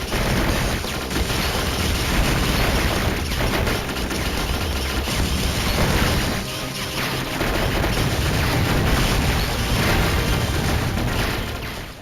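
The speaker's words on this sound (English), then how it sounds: "Machine gun fire, things blowing up, and bombs all sound great." Machine gun fire and explosions from the shoot-'em-up game Ibara form a dense, continuous barrage of rattling bursts and booms, loud and unbroken for the whole stretch.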